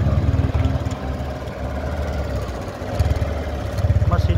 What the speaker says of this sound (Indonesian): Terus untuk mesinnya kita coba cek sound ya.